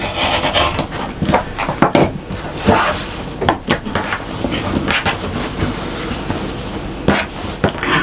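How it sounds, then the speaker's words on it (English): Quilt pieces trimmed with a ruler and rotary cutter at a sewing table, steady scraping and rubbing of fabric and ruler with scattered sharp taps and shifts, close and fairly loud throughout. "I'm just going to move my quilt around and trim"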